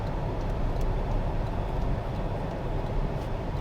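A 2024 Toyota Tacoma TRD Sport's turbocharged engine pulls under moderate throttle while driving, a steady low drone mixed with road and tyre noise and no speech.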